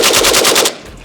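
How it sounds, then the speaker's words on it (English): A rapid burst of about seven loud automatic gunshots from an RPK-74 rifle fired from the shoulder, evenly spaced, then cut off into a short fading echo. "I kind of want to shoot these from the shoulder now"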